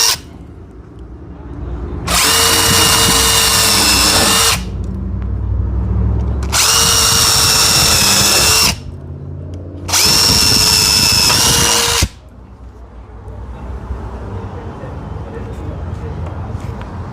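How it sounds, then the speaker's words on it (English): A power drill driving screws into a repaired, kicked-in door frame, running in three loud whirring bursts of about two seconds each with brief pauses between, close up, with low background sound in the gaps. "Now we're gonna drill again."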